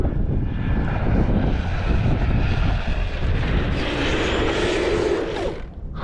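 An RC car on an 8S setup with a new Castle 2028 1100kv motor tears past on a speed run: a loud, close, sustained electric whine and roar with wind buffeting, shifting in pitch near the end.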